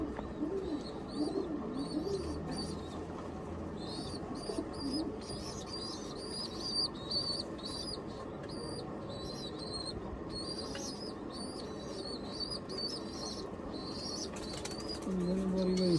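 Pigeons coo softly and repeatedly on a rooftop perch, faint, low murmuring calls over a steady outdoor hiss with some broadband background noise.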